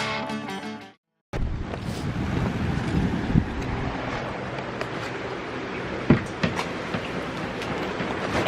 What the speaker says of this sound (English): Today is a bit breezy